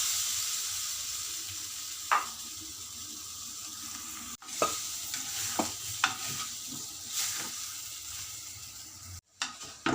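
Potatoes stirred and frying in a pan for a South Indian potato stir-fry, a continuous soft sizzle broken by several sharp scrapes and knocks of the spoon against the pan.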